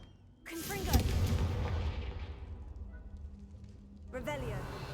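A Confringo blasting spell from the Hogwarts Legacy video game fires with a booming burst and a sweeping crackling tail, followed by a second blast near the end.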